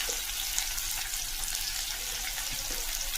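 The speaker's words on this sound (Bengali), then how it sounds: "পেঁয়াজটা ভাজা ভাজা হোক" Onions fry in a pan with a steady broadband sizzle, close and constant for the whole span, no voices present.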